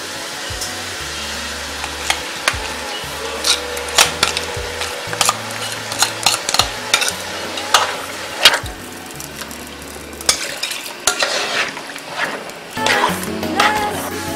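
Thick peanut paste being poured into a cooking pot and stirred, with wet scraping and clacking stir strokes over a low intermittent mechanical hum.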